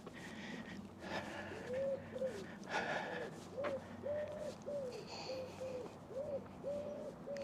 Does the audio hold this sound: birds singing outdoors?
yes